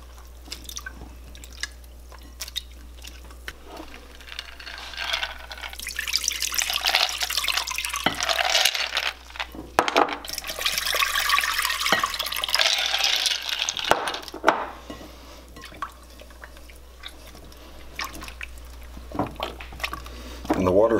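Homemade butter being washed by hand in ice water, with splashing, dripping and sloshing water in a bowl, moderately close and fairly steady with brief pauses.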